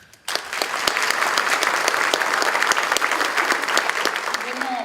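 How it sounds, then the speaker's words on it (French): An audience at a lecture evening in Camblain-Châtelain breaks into applause for the speaker, sharp onset then sustained dense clapping from many hands, loud and close, lasting throughout. "On peut l'applaudir."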